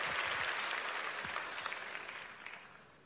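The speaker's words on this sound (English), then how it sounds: "Clap your hands if you would say amen at every campus." Church congregation clapping hands in response to a pastor's call, a dense wash of applause that starts fairly strong and gradually thins and fades across the few seconds, with no talking over it.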